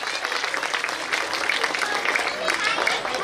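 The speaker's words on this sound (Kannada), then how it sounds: "ನಾವು ಇದರ ಖುಷಿಯಾಗಿ ಜೋರಾಗಿ ಚಪ್ಪಾಳೆ ಹೊಡೆಯುವುದರ" An audience of parents at a school annual day claps together in a dense, steady wash of applause that holds at an even level throughout.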